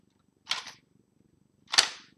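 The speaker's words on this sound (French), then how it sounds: "Et ça se clipse bien" Two sharp plastic snaps as LEGO pieces clip together, spaced over a second apart, close and crisp against near silence.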